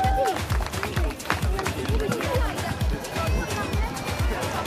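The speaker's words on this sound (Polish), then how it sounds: "wielkie brawa" Crowd at an Olympic picnic in Górsk applauding the first team's captain, steady rhythmic clapping close by with cheering voices and chatter mixed in.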